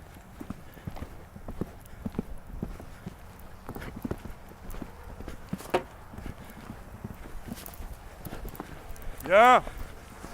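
A horse's hooves clip-clop in a steady rhythm during a riding lesson, faint and ongoing, with a brief louder whinny-like burst near the end; a riding instructor speaks throughout.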